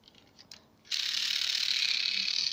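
A small toy train engine starts up, its gears whirring in a steady, high mechanical buzz that runs on without a break after a few quiet clicks; close and alone.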